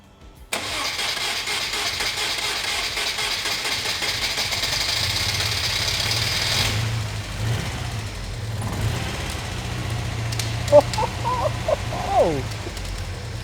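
A Rover 25 engine runs steadily after starting, a constant nearby mechanical drone with a broad hiss that fades after a few seconds, leaving a low hum.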